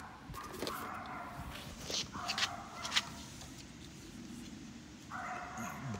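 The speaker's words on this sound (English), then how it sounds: "Dogs are barking in the background" Dogs bark in the background in a few short bursts, faint and distant, with light handling noises nearby.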